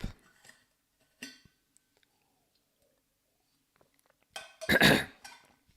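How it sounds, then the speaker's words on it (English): A single sharp cough right into a microphone, a loud, close burst with a trailing rasp that stands out after near silence and a few faint clicks. "I just coughed right into the microphone."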